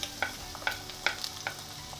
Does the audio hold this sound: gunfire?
no